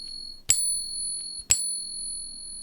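A real Morgan silver dollar on a coin pinger gives two struck pings one second apart, each followed by a clear, sustained high ring that hangs over a quiet background.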